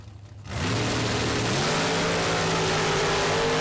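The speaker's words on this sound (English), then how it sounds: "Dragster out of Ohio." A drag racing dragster at the World Super Pro Challenge launches after a quiet moment into a loud, sustained engine roar with a steadily rising pitch as it accelerates down the track.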